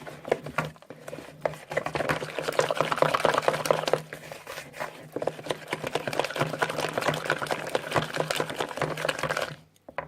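Cake batter for a mini mole cake whisked hard and steadily in a bowl, a continuous close rattling whir with a brief pause partway through, alone without talk.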